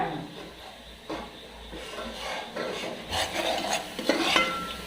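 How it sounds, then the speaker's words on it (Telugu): Onions fry in a pan for a mutton gravy while a utensil stirs them with scraping and clinking, over a soft sizzle that grows busier toward the end. "ఇలా మధ్య మధ్యలో కలుపుతూ వేపుకోవాలి, అడుగు పట్టకుండా."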